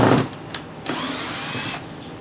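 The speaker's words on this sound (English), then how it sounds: "we're going to start a sheet metal screw in the hole that we marked" A power drill whirs steadily as a sheet metal screw is started in a marked hole while fitting a Stinger clam cleat, with a couple of short clicks before the motor runs continuously.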